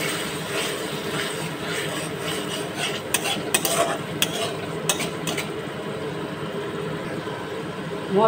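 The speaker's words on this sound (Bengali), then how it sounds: "ফ্লেমটা বাড়িয়ে এইভাবে অনবরত নাড়তে হবে।" Spice paste with yogurt sizzles steadily in a pan while being stirred, with a continuous frying hiss and a few sharp scraping clicks from the spoon near the middle.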